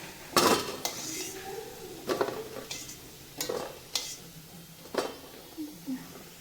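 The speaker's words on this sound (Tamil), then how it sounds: "இப்போ ஒன்றா திருப்பிடலாம் நல்லா ஃப்ரை ஆகிடுச்சு" Kola urundai meatballs frying in a pan as they are turned: sharp metal utensil clinks and scrapes against the pan, several times, over a low sizzle, with a voice briefly heard.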